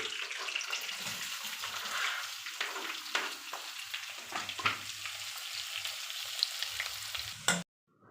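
Chicken pieces are stirred in hot oil in a pan, a continuous sizzle with scraping and clattering strokes from the spoon, fairly close, until a sudden cut near the end.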